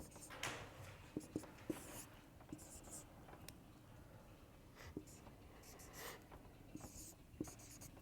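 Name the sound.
writing notation on a board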